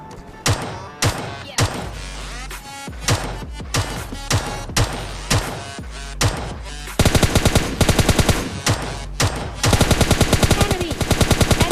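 Tommy gun fire in the mobile battle royale game PUBG Lite, loud repeated bursts of automatic shots with short gaps between them, turning into faster sustained volleys in the second half, with no talking.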